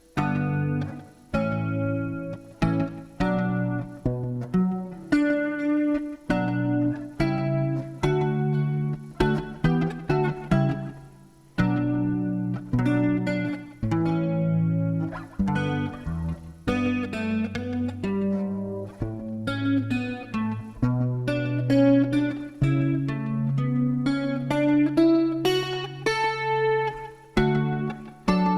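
A run of guitar chords strummed one after another, bright and sustained with ringing harmonics, steady and fairly loud with short gaps between changes.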